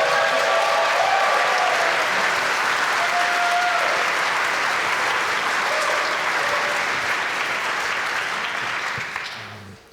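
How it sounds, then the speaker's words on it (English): A live crowd at the Brooklyn Opera House breaks into dense, loud, sustained applause that holds steady for nearly ten seconds before tapering off. "How about a round of applause for Hour and Ryan Dann?"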